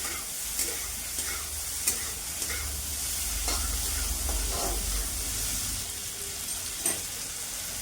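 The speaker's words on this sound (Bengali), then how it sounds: "জাস্ট তেলে একটু এভাবে নাড়া কাড়া করে ভেজে নিব" Boiled potatoes and plantain stir-fried in hot oil in a pan, a steady close sizzle with repeated spatula scrapes and stirring clicks throughout, no talking.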